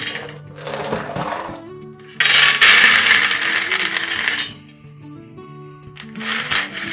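Raw peanuts scooped with a big measuring cup and poured out, giving a dense rattling, clattering rush of nuts that swells loudest in the middle and fades in bursts, with no talk over it.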